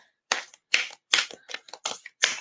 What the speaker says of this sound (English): Yes, Ronnie, I'm shuffling my cards again.